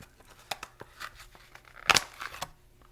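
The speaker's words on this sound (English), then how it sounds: "So we're going to start with some chives, and we're going to cut them up." Fresh chives being snipped for a sandwich garnish, heard as a handful of close, crisp cutting and crinkling snaps spread across a quiet kitchen background, with one louder rustling burst near the end.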